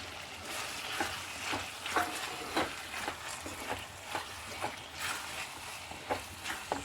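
Tomatoes cooking in a hot pan for a sardine roast: a soft, steady sizzle sits under regular, close scraping stirs that come roughly every half second, with no talking.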